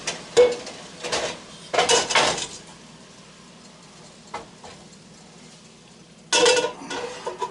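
Metal cooking pots being swapped, a 5-quart and a 7-quart, with several sharp clanks and scrapes in short bursts separated by quieter gaps, close and clear with no voices.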